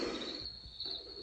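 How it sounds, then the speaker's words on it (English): Crickets chirping from a relaxation sounds app: a continuous high, shrill trilling held over a soft ambient bed, faint and steady with no talking. "A little bit of crickets."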